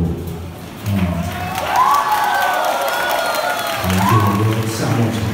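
An audience at a live concert claps and cheers in a sustained wash of applause, with a few high shouts rising above it, while someone speaks over the crowd at the start and end.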